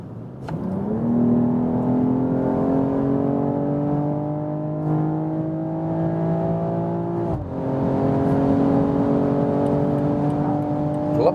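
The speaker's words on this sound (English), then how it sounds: "I press and hold the left shifting pedal and you'll see multiple gears hopping back." BMW M440i Gran Coupe downshifting through several gears and then accelerating hard from 100 to 200 km/h. The engine note climbs loud and steady, with a brief break for a gear change partway before it pulls on again.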